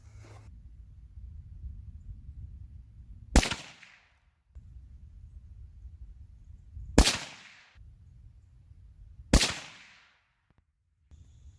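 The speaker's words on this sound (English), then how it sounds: "we shot a quick group to confirm zero there at 100" Three separate sharp rifle shots from a Savage 110 Tactical Desert in 6mm Creedmoor, fired outdoors at a 100-yard range, each a loud crack with a brief decaying tail, spaced a few seconds apart over low background rumble.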